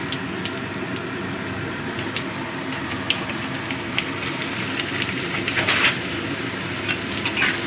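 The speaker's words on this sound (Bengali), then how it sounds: "আলুটা দিয়ে দিচ্ছি।" Potato pieces go into hot oil with tempered whole spices and fry with a steady, dense crackle and sizzle like light rain, close and even throughout, with a few brighter spits near the end.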